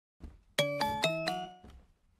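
A bright new-message notification chime from the video game Parasocial sounds as a quick four-note ascending ding, clear and close, ringing out briefly before fading into quiet.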